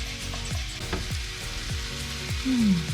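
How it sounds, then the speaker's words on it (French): Courgettes frying over high heat in a pan with olive oil, salt, pepper and curry, giving a steady close sizzle with repeated soft scraping and stirring knocks. "Nous allons venir mettre nos courgettes dans la poêle avec 2 belles cuillères d'huile d'olive, du sel, du poivre."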